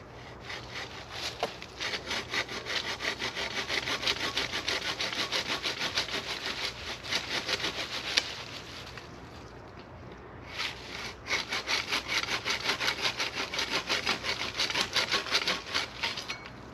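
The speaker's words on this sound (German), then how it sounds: "jetzt sägen wir spaßeshalber mal noch ein bisschen." Wood being cut with the saw of a survival telescopic multipurpose spade, a rhythmic back-and-forth rasp of close, quick strokes, pausing briefly before resuming.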